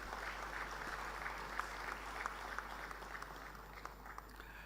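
An audience at a sports award ceremony in Bhopal applauds to welcome a guest, producing a soft, even patter of clapping with a few sharper claps. The clapping sits over a low, constant hum.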